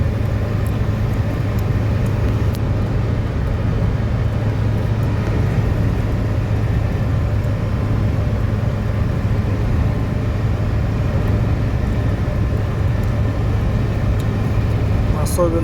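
A car drives through a blizzard, its cabin filled with a steady, loud low rumble and broadband roar of engine, road and wind that continues without break.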